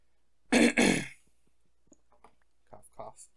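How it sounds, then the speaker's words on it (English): A person gives two harsh, loud coughs or throat clears in quick succession, close up. Then come quiet clicks and a few short, faint vocal sounds. "Cough, cough."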